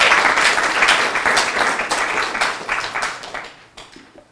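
An audience applauds to welcome lecturer Dr. Sarah Jirek at a gender studies lecture, dense steady clapping from a crowd that thins and fades out toward the end.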